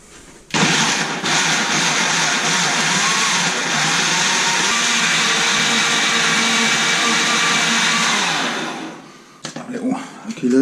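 A blender blitzes mojo marinade with olives and garlic, running as a loud, steady whir for about eight seconds before winding down, with voices talking over it.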